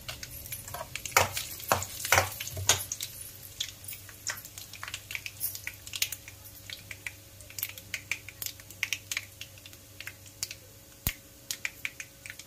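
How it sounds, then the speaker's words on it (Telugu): Three dried red chillies, curry leaves and crushed garlic fry in hot oil for a kala gura pulusu, producing a steady crackling sizzle with sharp pops that are loudest early on and thin to scattered spits. "మొత్తం ఇవన్నీ వేగనివ్వండి."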